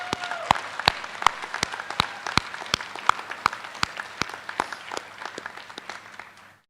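Warm round of applause from a graduation crowd at a high school ceremony, steady clapping with sharp individual claps standing out, sustained for several seconds before tapering off.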